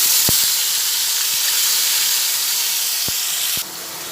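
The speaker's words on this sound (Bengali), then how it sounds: "দুটো একসঙ্গে ভেজে নিচ্ছি ভাজা হতে হতেই এর মধ্যে কিছুটা পরিমাণে পেঁয়াজ বাটা দিচ্ছি" A steady, bright hiss of onion paste frying in hot oil runs throughout, with a few sharp clicks and taps; the sizzle drops slightly near the end.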